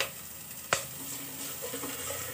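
Greens (bhaji) sauté in a pan with a low, even sizzle, one sharp tap of a spoon against the metal early on, and quiet stirring after.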